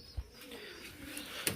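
A golden pigeon coos softly close by, low repeated murmuring notes under a faint background hiss, with a light tap near the end.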